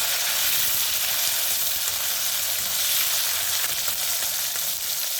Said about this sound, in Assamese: মাছখিনি মই আধা ভজা কৰি ৰাখিম।